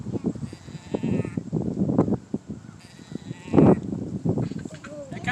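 A female deer, a doe, bleating in short nasal calls much like a lamb, several close and loud cries in an irregular run, one standing out strongest near the middle.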